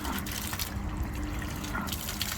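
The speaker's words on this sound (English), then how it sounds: "you can hear the pump actually working, being resonated, echoed through this bucket" A washing machine drain pump pushes water outdoors into a bucket, giving a steady close rush of pouring, gushing water with the pump's hum resonating through the bucket.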